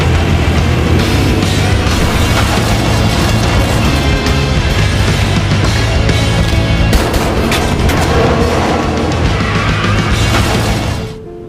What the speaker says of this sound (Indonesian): Aksi kejar-kejaran dan baku tembak pun terjadi.